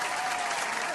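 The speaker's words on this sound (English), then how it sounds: "Round of applause to him." A round of applause from a crowd, dense steady clapping filling the whole moment at even loudness with no pauses.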